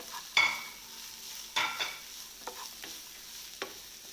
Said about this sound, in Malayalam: അതിനുശേഷം വെളുത്തുള്ളി അതിനകത്തേക്ക് ഇട്ട് കൊടുക്കാം